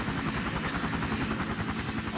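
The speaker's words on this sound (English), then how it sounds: "Yo, what's up with all the helicopters?" Helicopters in the Emergency 4 game with a Salem, Massachusetts mod: a steady rapid rotor chop with a droning engine hum, loud and continuous throughout the short stretch, no speech.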